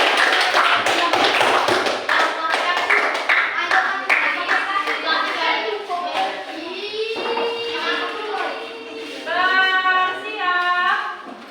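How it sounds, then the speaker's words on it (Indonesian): A classroom of students claps for a group, a dense burst of close hand claps that thins out after a few seconds, followed by children's voices chattering and calling out. "Oke, kita kasih aplaus."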